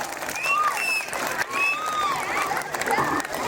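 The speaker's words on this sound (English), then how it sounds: "Give a big round of applause, everyone." An audience at a school's annual fest applauds for a branch principal, with continuous close clapping, shrill whistles and cheers rising over it and voices mixed in throughout.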